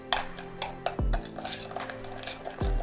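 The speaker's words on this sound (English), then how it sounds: "Now we're going to mix all of this" Potatoes are tossed with oregano and seasonings in a bowl, a metal utensil scraping and clinking against it in quick irregular strokes, with two heavier knocks, close and clear with no talking.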